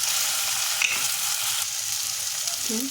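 Ground turmeric, cumin and coriander powder frying with salt in a pan for a Bengali amodi fish curry, giving a steady close sizzle throughout with faint stirring scrapes and no talk.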